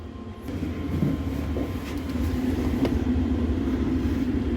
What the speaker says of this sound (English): The furnace is running.